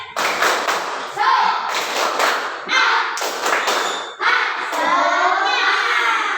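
A school class performs the tepuk semangat clapping chant, with bursts of loud unison rhythmic claps alternating with children's voices chanting and shouting, close and energetic.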